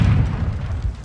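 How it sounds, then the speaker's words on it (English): A grenade explosion in the Modern Warfare 2 video game, a loud deep boom that rumbles and decays over about a second. "Hit with a grenade."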